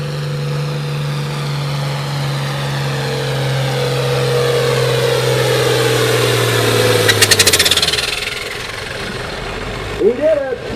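A 9000 lb modified farm tractor at a pulling event in Platteville, Wisconsin, holds a loud, steady engine drone that rises in pitch before dropping off near the end, with a short burst of crackle midway.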